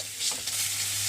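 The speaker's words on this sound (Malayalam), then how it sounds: "നമുക്ക് ആദ്യം ചെമ്മീൻ വറുത്തെടുക്കാം." Dried shrimp are stirred in a hot pan for a curry, giving a soft, continuous sizzle with a few light scraping strokes and no talking.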